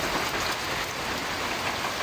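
Heavy rain pours steadily in a dense, even roar of drops striking surfaces, close and loud with no break.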